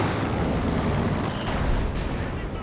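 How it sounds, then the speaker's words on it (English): Howitzer artillery firing on emplacements in Company of Heroes 2, dense loud booming barrage with overlapping blasts and rumble, sustained and close throughout. "And now the Howitzer are going to work on the emplacements."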